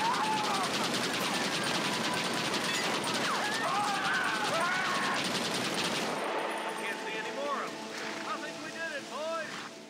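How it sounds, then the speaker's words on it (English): A machine gun fires in the video game Red Dead Redemption, rattling in a steady rapid stream that cuts off about two-thirds through, leaving scattered echoing shots and game ambience, with voices talking over it. "This machine gun's terrible."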